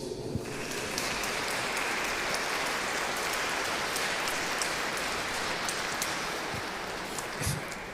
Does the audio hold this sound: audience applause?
yes